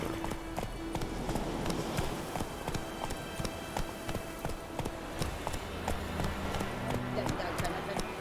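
Hooves of the horse Roach clopping in a steady galloping rhythm on a road in The Witcher 3, continuous and moderately loud, with a patter like rain and talk over it.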